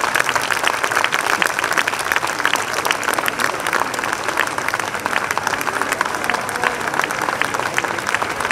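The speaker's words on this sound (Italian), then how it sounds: "L'uscita della fanfara di Rocca Franca con un grandissimo applauso." Loud, dense audience applause for a Bersaglieri fanfare band from Roccafranca as it leaves the stage at a concert of four fanfares, continuous and evenly sustained throughout.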